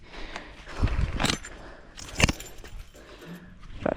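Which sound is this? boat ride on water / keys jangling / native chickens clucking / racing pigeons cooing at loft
keys jangling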